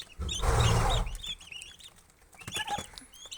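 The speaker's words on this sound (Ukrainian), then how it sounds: "Ось такі індики." A brief rustling burst opens, then young turkey poults, still growing their feathers and kept somewhere warm, chirp and cluck close by in short scattered calls, with no talk.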